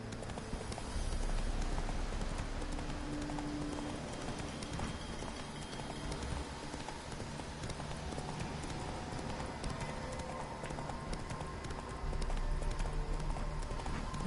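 Galloping horse hooves from The Witcher 3, a steady rapid clip-clop beat running throughout over a dense game soundscape of ambience and faint rain-like texture, fairly loud and continuous.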